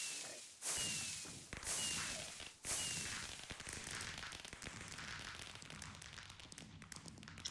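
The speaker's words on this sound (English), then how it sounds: "Alright, firework spell, what do you do?" Firework spell cast in modded Minecraft 1.21.1, giving three sharp whip-like cracks with rising whooshes, each followed by a crackling, fizzing burst that stretches into a dense sparkling hiss after the third.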